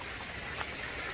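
Steady rain falls in mountain hills in northern Thailand during a motorbike trip, a quiet, even hiss of drops with no break and no voices.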